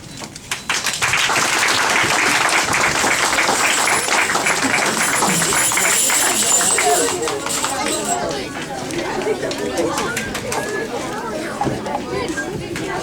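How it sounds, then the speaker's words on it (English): Audience applause for a children's class reenactment of Moses meeting God at a vacation Bible school, loud steady clapping that thins after about seven seconds into scattered claps and crowd chatter. "Here we get another round of applause for the reenactment of Moses meeting God."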